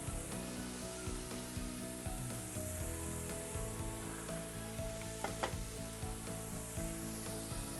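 Coconut paste and curry leaves sizzle loudly in a pan for a Chennai-style South Indian thali, a dense continuous crackle broken by repeated scraping stir strokes.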